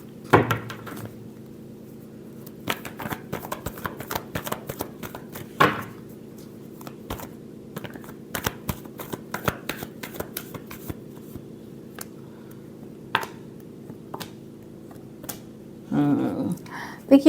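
Tarot cards being shuffled in repeated crisp riffles and flicks, moderately close, over a steady low hum, with a burst of handling near the end.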